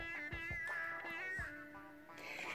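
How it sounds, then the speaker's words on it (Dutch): A cat meows several times at close range in a quiet room, giving short, rising, plaintive calls one after another. "die zei ook een miauw"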